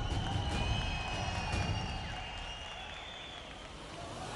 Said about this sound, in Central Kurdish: چەپڵە